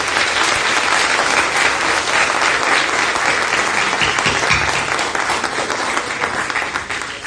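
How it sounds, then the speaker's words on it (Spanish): Sustained audience applause at a Peruvian event honoring children's pandemic stories, dense and steady clapping from a full room lasting throughout, tapering slightly near the end with no talking. "pido un aplauso para Alejandro"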